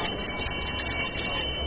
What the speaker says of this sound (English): Each bell is a little different, and it's strung differently to have the unique sound of the Good Humor Man.